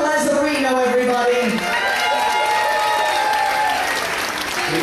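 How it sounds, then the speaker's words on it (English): Cruise-ship audience applauding the captain at an onboard welcome event, a dense sustained clapping with some cheering that fills the whole stretch, heard over music-like tonal lines and loud throughout. "Give him a huge round of applause."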